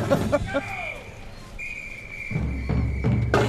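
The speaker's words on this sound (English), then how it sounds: "There's the whistle." A long, steady high-pitched whistle blast held for a couple of seconds at an autumn street parade, with talking and crowd noise around it.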